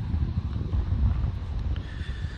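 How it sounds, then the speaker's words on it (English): Steady wind buffets the microphone at a former landfill site in Liverpool, a continuous low rumbling roar with no voices. "It is a bit windy."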